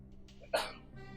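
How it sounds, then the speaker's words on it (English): A single short, sharp sneeze bursts out against a quiet background with faint music, brief and fairly close. "Girlfriend's in the back, sneezing."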